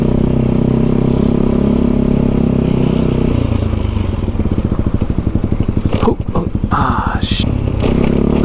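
A Honda Elite SR scooter with a swapped-in 250cc engine running rich drones loudly and close, then shifts into a choppy, pulsing revving with clattering bursts, as if riding off or blipping the throttle.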